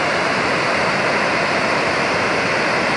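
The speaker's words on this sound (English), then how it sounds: "Knuckles Waterfall." Knuckles Waterfall roars as a dense, constant rush of falling water, loud and unbroken throughout, with no voices.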